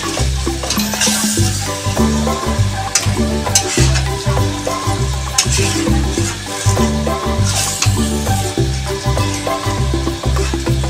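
Chicken stir-frying and sautéing in a pan for homemade butter chicken: a steady sizzle with repeated rhythmic scraping and stirring strokes, close and fairly loud throughout.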